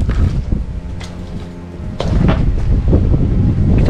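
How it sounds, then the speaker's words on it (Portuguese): Strong wind buffets the microphone, a loud, rough rumble that swells and gusts throughout with no break. "Aqui tá ventando demais. Tá ventando demais,"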